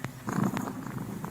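A cat purrs close up in a short, low, rumbling stretch with a soft rhythmic pulse, and nobody is talking.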